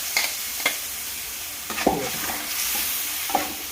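Cold water and a ground paste of coriander and green chilli hit a hot tempering for a Marathi boiled-potato curry. A steady hiss runs throughout, with several sharp stirring clinks and splutters standing out close by.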